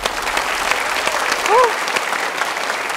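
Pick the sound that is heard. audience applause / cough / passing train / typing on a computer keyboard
audience applause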